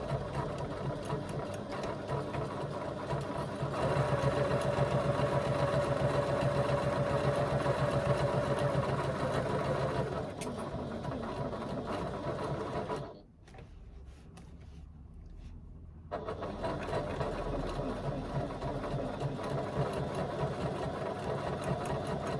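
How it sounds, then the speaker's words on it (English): A sewing machine stitches the side seam of a fabric bag at a 3/8 inch seam allowance, running in a steady close whir that pauses briefly before resuming. "So I'm just going to stitch the one side at 3/8 of an inch seam allowance."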